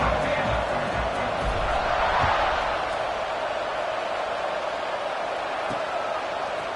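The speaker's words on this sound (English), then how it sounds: "this crowd is buzzing after that last score" Stadium crowd buzzing at a Ball State vs Michigan college football game, a steady broad roar that swells briefly then holds under a commentator's voice.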